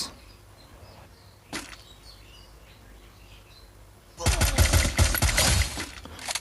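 Gunfire in a shooting video game: a single sharp crack, then a couple of quiet seconds, then a loud burst of rapid automatic shots lasting about two seconds over faint game ambience.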